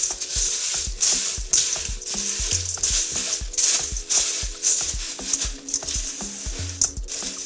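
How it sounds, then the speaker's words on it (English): Cornflakes being stirred into melted chocolate make a continuous close crackle and rustle, with repeated rhythmic scrapes and crunches as the spoon works the mix, moderately loud and with no voices. "stir in the cornflakes until evenly coated"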